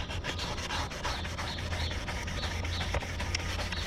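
Car mirror plastic trim being wet sanded by hand with 400-grit sandpaper, a fast continuous back-and-forth rasping rub heard close up with no pauses.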